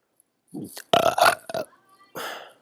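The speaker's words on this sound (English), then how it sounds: "That was a burp on auto-tune." A drawn-out burp bent into warbling, robotic pitch steps by a pitch-correction effect, coming in a few bursts with short gaps.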